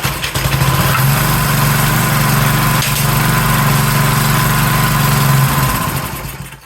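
A small edger engine runs loud and close at a steady buzzing drone, then sputters and dies away to silence at the end.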